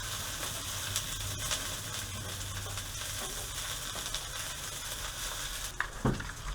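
Ingredients for sinigang bulalo being sautéed with salt in a hot pan, giving a steady close sizzle and hiss throughout, with a brief clatter near the end.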